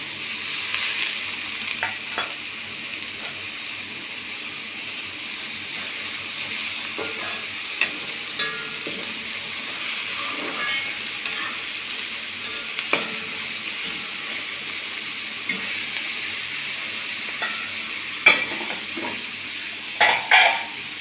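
Curry leaves frying and sizzling in a pan for kappa biriyani, a steady close hiss broken by occasional scrapes and clinks of a utensil being stirred through, with no talking.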